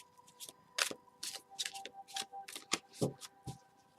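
Tarot card decks are shuffled close up, with a quick series of crisp riffling and slapping bursts in an uneven rhythm, alone with no talk.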